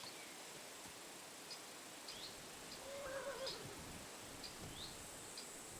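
A horse whinnies once in the distance in the video game Kingdom Come: Deliverance 2, over a quiet ambient bed, with faint scattered clicks and rustles around it.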